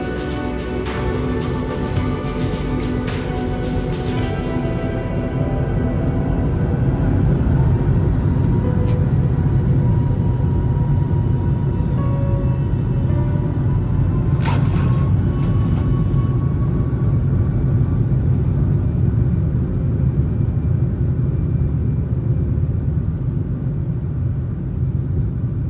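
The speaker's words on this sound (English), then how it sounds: "Taking off out of Nuuk Airport" An airliner takes off from Nuuk Airport in Greenland, heard from inside the cabin as a loud, steady engine roar and deep rumble that builds and holds throughout the takeoff run and climb.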